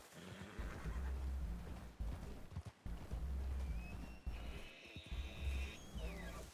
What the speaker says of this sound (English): Oh, that elk is loud.